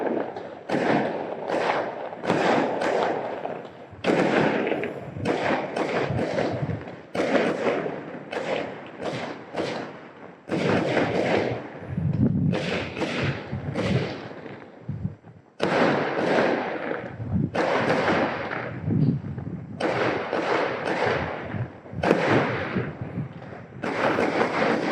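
Fireworks explode in dense, continuous volleys, heavy thuds and sharp cracks following one another in rapid bursts, loud and close, with brief gaps between clusters.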